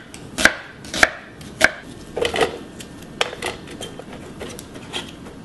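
A knife slicing a medium onion on a cutting board: several sharp, distinct chops spaced about half a second apart, then quieter, irregular cuts, close up with no talking.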